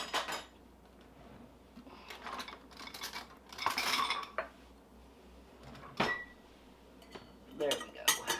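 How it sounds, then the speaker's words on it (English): A metal spoon clinks and scrapes against glass pint jars filled with roasted chicken for canning, giving scattered light taps and clatters with quiet gaps between them. "Let me get a different spoon that'll go down in there."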